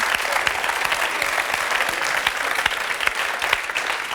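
An audience applauds young women modelling party outfits on a French TV lifestyle show, steady dense clapping filling the room at an even level with no pauses.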